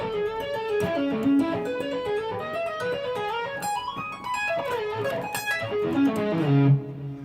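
Fast tapped guitar solo lick at low gain with reverb, a busy stream of bright legato notes running continuously and fairly loud with a slightly messy feel.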